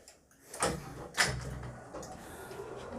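Automatic sliding doors close at an education centre in Qatar, giving two soft, fairly close thuds about half a second apart over a low indoor hum, with no talk.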